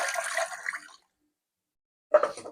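Water splashes into a cooking pot holding a beef leg cut, in two brief bursts of pouring split by about a second of silence, close and moderately loud.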